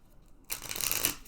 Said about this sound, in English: And I like to shuffle a lot.